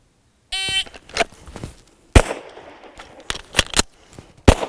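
Electronic shot-timer beep opens a timed shooting drill, then sharp, loud gunshots crack out at irregular intervals, with the strongest reports landing well apart and some fainter clatter between them.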